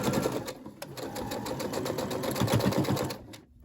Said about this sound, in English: Then I like to carefully backstitch, trying to keep on the same line.